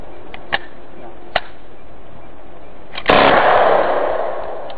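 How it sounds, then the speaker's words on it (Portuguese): A rifle fires single shots on its semi-auto selector setting: two sharp cracks early on and a third louder report followed by a lingering echoing rumble, close and distinct. "Vamos fazer um tiro um a um, tiro unitário aqui."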